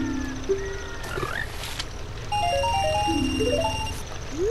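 Frogs in The Legend of Zelda: Ocarina of Time croak and chirp in bright rising and falling electronic tones over a steady game background hum, with short ascending note runs repeating.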